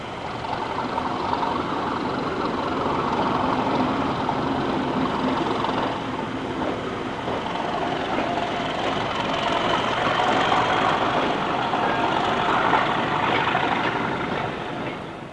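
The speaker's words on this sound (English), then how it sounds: "Forders also sees spoil trains from Bletchley" A spoil train from Bletchley running at Forders Siding, a steady continuous rumble of wagons and engine that holds at a fairly even, moderately near level throughout with no pauses.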